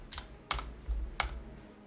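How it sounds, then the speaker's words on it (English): A few isolated computer keyboard keystrokes, close and crisp, spaced about half a second apart over low room hum during a Path of Exile gaming stream. "I'm typing kills."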